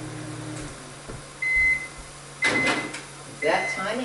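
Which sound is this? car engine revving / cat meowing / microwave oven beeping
microwave oven beeping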